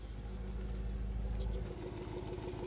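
A 2020 Jaguar F-Pace SVR idles with its exhaust set to quiet mode, giving a steady, even low rumble that holds without change and with no voices over it.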